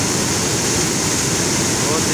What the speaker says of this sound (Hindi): इसके नीचे से पानी जा रहा है